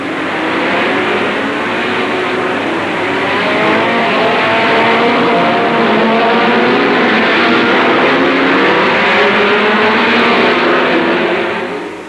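Several 1960s Formula One race cars roar past in the London Trophy race, a loud continuous engine wail that swells and holds steady before easing off at the end, with no talk.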